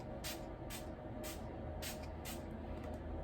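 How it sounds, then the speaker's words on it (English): Becca primer and setting mist sprayed as part of a makeup routine, several quick soft hissing spritzes in an uneven rhythm, close and faint over a steady room hum. "Now I'm just going to spray."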